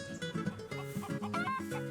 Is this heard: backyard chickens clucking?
yes